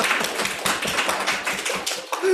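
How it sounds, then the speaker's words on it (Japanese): Lecture audience clapping, a dense run of quick, close handclaps lasting a couple of seconds with light voices mixed in. "拍手出ちゃったよ"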